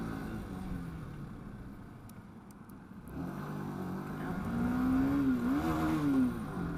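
A motorcycle engine, heard faintly from onboard, drops off during a gear change and then climbs again in revs, under the hum of riding and a voice speaking.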